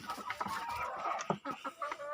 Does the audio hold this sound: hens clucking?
yes